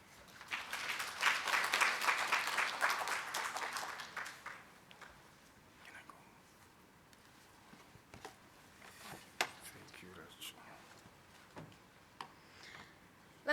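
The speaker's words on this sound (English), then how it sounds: "Let's give another round of applause to Dr. Ditu." Applause from an audience at a public health talk on pandemic preparedness and field epidemiology, loud and dense for about four seconds, then fading into scattered, isolated claps.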